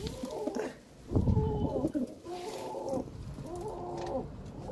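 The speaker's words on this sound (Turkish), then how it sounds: "Bu nasıl bir eşe çağırma?" A pigeon gives a soft, repeated cooing mating call, several low throaty pulses in a steady rhythm, fairly faint and close.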